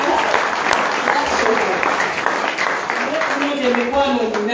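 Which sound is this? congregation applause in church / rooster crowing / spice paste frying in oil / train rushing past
congregation applause in church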